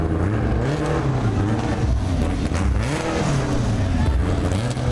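A race car with a Honda B-series engine revs hard at a drag event, its loud engine note rising and falling in repeated sweeps, with crowd noise underneath.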